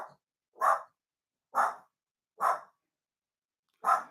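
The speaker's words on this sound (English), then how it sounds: "And stop all that barking." A dog barks four times in a slow, steady rhythm, each bark a sharp, mid-pitched burst spaced about a second apart, fairly close and loud with silence between.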